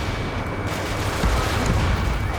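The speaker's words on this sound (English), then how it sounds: "Gunfire and the roar of jets echoing through the streets" Dense, continuous gunfire rumbles in Ace Combat 7 over a city under martial law, a thick wash of rapid shots and booms with no pauses and no voices.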